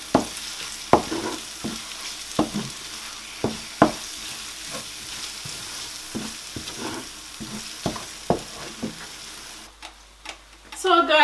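Spoon scrapes and knocks against a pot while beans with paprika are stirred, irregular distinct taps over a low background hiss, ending with a brief rattle.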